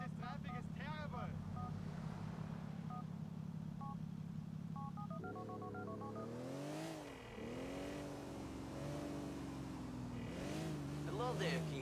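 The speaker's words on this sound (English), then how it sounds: "Oh, this traffic is terrible!" A car engine drones and revs while driving through traffic in the video game GTA IV, with phone keypad beeps early on and people talking over the steady engine hum.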